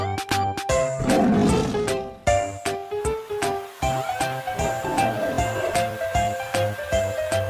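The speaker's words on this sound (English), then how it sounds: "Tiger." A tiger roars repeatedly in short loud bursts over a busy background of music and other sound effects, the calls coming in quick succession without any speech.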